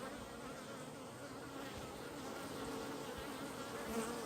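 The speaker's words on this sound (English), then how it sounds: "While I am observing the behavior of these bees here today, I can smell that they're coming in with a lot of pollen." Honey bees hum steadily at a hive entrance as foragers return laden with pollen, a dense close swarm drone with no break and no talk over it.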